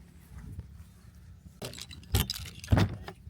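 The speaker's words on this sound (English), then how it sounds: "we're going to do that thing where you put the keys in the door" Keys jangle and clink as they are pushed into a caravan door lock, a few sharp metallic bursts close by, louder toward the end.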